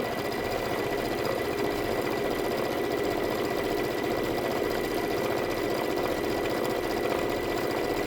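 An embroidery machine runs a quilting stitch with a steady, fast mechanical chatter and hum, continuous and close throughout with no voices.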